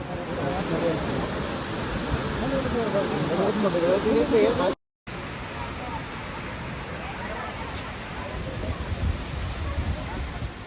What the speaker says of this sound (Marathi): पहा हा धबधब्याचा थरार किती सुंदर किती प्रचंड आणि किती आवाज